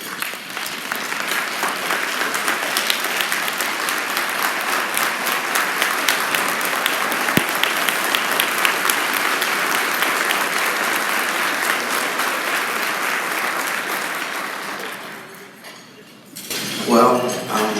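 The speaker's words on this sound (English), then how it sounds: "every single person in this room should stand up and give him a round of applause" Sustained applause from an audience in a room honouring a foster parent, dense steady clapping for about fifteen seconds before fading, followed by a voice starting to speak.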